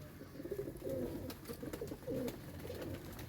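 Ferozpuri and Zira Kasuri pigeons coo in soft, repeated throaty bursts at close range, several calls overlapping over low background noise.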